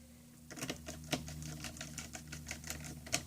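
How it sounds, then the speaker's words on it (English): Repeated sharp clicks and a whirring buzz as screws are driven into a Panasonic CF-30 MK1 rugged laptop during a touchscreen replacement, close and fairly quiet, in irregular bursts. "So let's get the screws for that and then screw it in."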